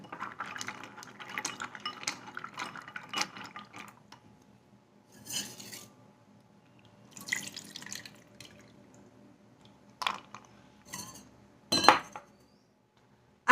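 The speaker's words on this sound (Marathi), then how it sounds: "आपण काजू थोडेसे साध्या पाण्याने स्वच्छ धुवून घेऊया" Cashews rinsed in plain water in a bowl give off scattered splashes, drips and light clinks, starting with a busy stretch and then coming in short separate bursts with quiet pauses between, close and fairly soft.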